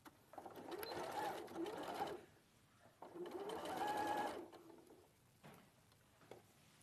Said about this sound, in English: pivot and sew along the front of the leg